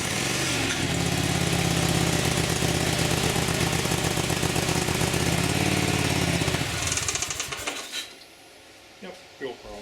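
A lawn tractor engine with a fuel problem runs loud and steady with a low chugging drone for several seconds, then cuts out, leaving a few faint clanks.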